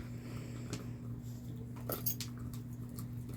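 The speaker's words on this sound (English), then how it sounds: "there's a puppy that is an avid chewer" Soft, irregular chomping and gnawing from a puppy working on a toy close by, with a steady low hum underneath and occasional sharper clicks.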